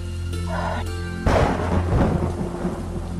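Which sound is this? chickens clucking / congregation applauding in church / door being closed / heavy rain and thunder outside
heavy rain and thunder outside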